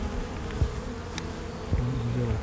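Honey bees buzzing around an open hive during a hive split in Northern Nevada: a close, continuous droning hum with individual bees flying past, rising and falling in pitch.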